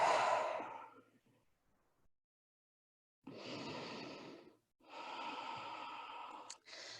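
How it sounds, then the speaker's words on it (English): Slow, deep breaths through the mouth during a yoga practice, an audible exhale followed by a pause, then two long breathy sighs, close and soft. "Another deep inhalation and exhale all out"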